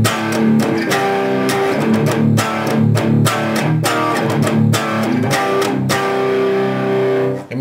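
Heavily distorted electric guitar power chords ring out loud and thick, struck repeatedly in a steady rhythm and left to sustain at the end.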